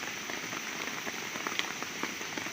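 Rain falls in a forest with a steady, close pattering of drops on leaves and surfaces, dense and even throughout, with no voices.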